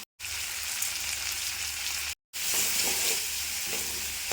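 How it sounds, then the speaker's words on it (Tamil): Onions and tomatoes sautéing with salt and turmeric in a pan for a horse gram curry, a steady close sizzle and crackle with a few stirring scrapes, broken by two brief silent gaps. "இந்த தக்காளி நல்லா மசிய வேகணும். கொஞ்ச நேரம் வதங்கட்டும்."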